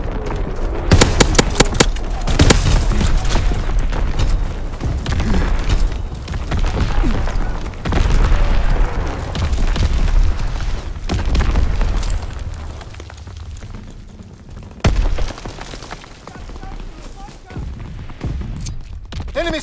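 Heavy artillery shells burst in a World War II battle in Call of Duty: WWII, deep booming blasts rolling one after another with crackling debris, loud and dense, while radio voices speak over the barrage.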